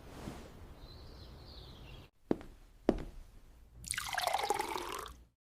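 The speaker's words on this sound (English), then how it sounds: "I pour some water." Water poured into a container, a brief rising gurgling pour near the end, preceded by a couple of soft clicks and quiet room tone.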